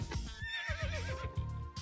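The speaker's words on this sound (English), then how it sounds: "There's a horse." A massive cart horse hitched to a train whinnies in a video game, a wavering neigh over steady rhythmic clip-clop hoofbeats, close and clear.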